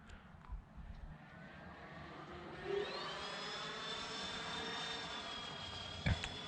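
A Freewing F-14 radio-controlled jet with twin 80mm electric ducted fans and wings swept back makes a high-speed overhead pass, its whine rising in pitch and swelling into a steady airy roar, with a sharp knock near the end.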